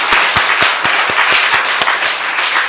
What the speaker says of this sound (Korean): 그리고 2020년 우리에게 새해를 허락하신 하나님께도 감사의 박수를 드리시겠습니다.